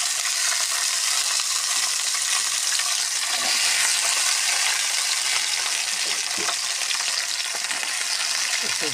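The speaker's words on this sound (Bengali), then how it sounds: "এগুলোকে হালকা ভেজে নেবো যাতে না পুড়ে যায়, এইভাবে ভেজে নেব" Green beans frying in oil in a pan on a home stove, a steady dense sizzle with occasional faint clicks and scrapes running continuously and fairly loud throughout, with no voices.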